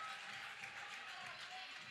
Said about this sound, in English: you hear the Georgia crowd cheering